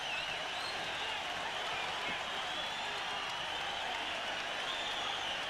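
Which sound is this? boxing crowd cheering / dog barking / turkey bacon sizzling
boxing crowd cheering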